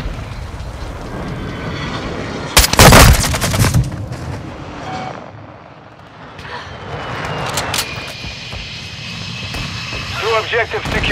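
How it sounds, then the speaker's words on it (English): A friendly VTOL aircraft roars overhead in Call of Duty: Modern Warfare II multiplayer on the Shoot House map, its engine droning through the clip, mixed with bursts of gunfire and a loud blast in the game. "Friendly VTOL entering this sector."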